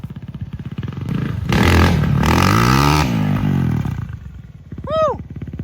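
A cheap used dirt bike bought off an online marketplace, its small engine putting along then revving hard into a loud buzzing roar, dropping back to a rough idle, with a short whoop over it near the end.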